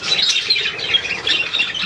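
Birds squawking near a feeding spot with bread rolls, carrots, apple and hard-boiled egg, a steady dense chatter of shrill squawks and calls throughout, fairly close and continuous with no speech.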